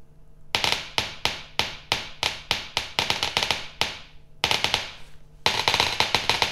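An Ondioline synthesizer set up to sound like a typewriter gives rapid, sharp clacking strikes in irregular bursts, close and loud, with brief pauses between runs of keystrokes and no bell.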